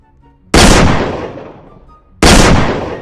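Two loud heavy revolver shots in a Roblox game, each a sharp blast with a long booming decay, spaced well apart with quiet between.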